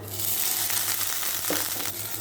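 Garlic cloves and cumin seeds sizzling in hot oil in a pan, a dense, close crackling fry that runs continuously with small pops and stirring scrapes, no talk.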